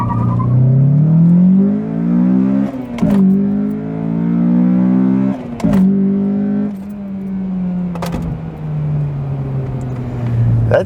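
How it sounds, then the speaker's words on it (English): A Honda Accord Euro R CL7 with a K20 engine launches hard from a standstill to 60 mph, its engine revving up through several gear changes with brief dips between shifts, loud and close throughout. "first we're going to try the Euro R for 0 to 60 time"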